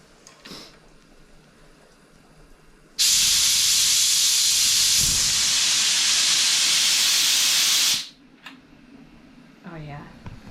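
Beer flowing out during malt brewing, a loud steady rushing hiss that starts abruptly, holds for about five seconds and then cuts off, with quieter handling sounds before and after.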